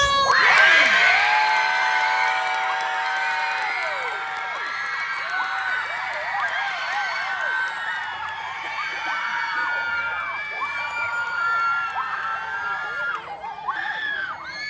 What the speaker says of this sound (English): I'm gonna have you guys cheer one more time.